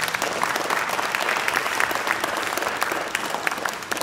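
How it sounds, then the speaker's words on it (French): At a banquet, an audience breaks into loud, sustained applause, a dense even wash of clapping that holds steady from start to finish. "On peut l'applaudir bien fort."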